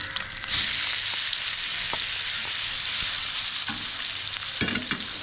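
Gooseberries fry in a pan for a Kerala-style pickle, giving a loud, continuous sizzling hiss with occasional spoon scrapes and clicks as they are stirred, close up, with no voices.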